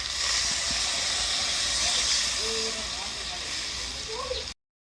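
Water poured into a hot pan of fried potatoes and vegetable nuggets hisses loudly in a steady steamy rush that eases slightly toward the end before cutting off abruptly.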